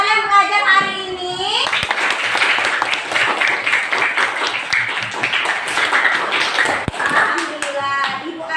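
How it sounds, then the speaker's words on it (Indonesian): Young pupils in an Indonesian classroom clap their hands together in a lively, rapid patter lasting several seconds. Children's voices chant and sing just before and after the clapping, and a few sharp individual claps stand out near the middle. "Kalau bahagia tepuk tangan, tapi kalau tidak bahagia diam saja."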